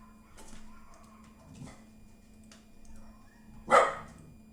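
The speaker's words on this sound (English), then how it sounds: "my dog is going off right" A pet dog barking indoors in a distant room, with a few faint barks and then one louder, sharper bark near the end.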